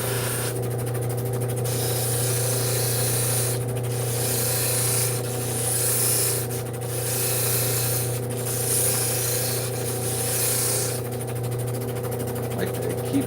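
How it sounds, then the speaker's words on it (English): The edges of a handmade witch sculpture are sanded in long, raspy rubbing strokes that come in several bursts over a steady background hum. "Like to keep the edges a little bit sanded so that they don't chip on me"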